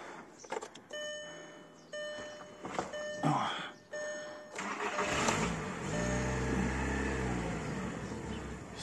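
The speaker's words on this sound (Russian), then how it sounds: "Завожу ее." Warning chimes beep repeatedly, then a Skoda Octavia engine with a torn hose and misfire cranks and catches, settling into a steady low idle rumble close by.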